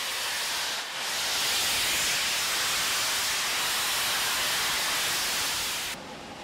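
Big American steam locomotive venting steam, a loud, dense, continuous hiss that swells in quickly and holds steady before cutting off sharply near the end, close and alone without talk.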